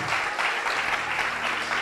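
Sustained applause from a Sunday church congregation in Mar del Plata, an even roar of clapping hands that holds without a break.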